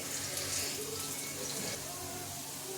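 Cool tap water runs steadily over strained Maggi noodles in a kitchen sink, a continuous close splashing wash with no break.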